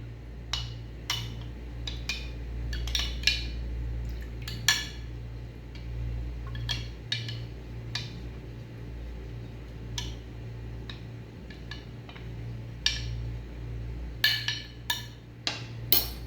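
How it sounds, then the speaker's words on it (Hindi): A spoon stirs custard powder into milk, tapping and clinking against the side of the bowl in irregular light clicks, sometimes in quick clusters, over a low steady hum. "इसको अच्छी तरीके से मैं हिला रही हूँ ताकि किसी किस्म के कोई लम्स ना रहें"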